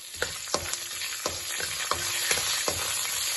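Green chillies, red chillies and curry leaves frying in hot oil for Kerala-style lemon rice, a steady close crackling sizzle broken by regular clinks of a spoon stirring the pan, with no voices.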